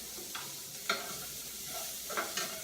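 Hot honey jalapeño Brussels sprouts with bacon stirred in a sizzling pan, a steady frying hiss with a few scraping strokes of the spoon, no talk.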